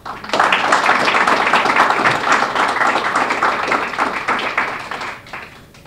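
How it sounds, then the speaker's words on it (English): An audience at a policy briefing applauds the panelists with dense, steady clapping that swells quickly, holds loud for several seconds, then tapers off near the end. "Would you please give a, a round of applause for all of our panelists?"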